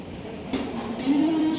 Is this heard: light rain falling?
no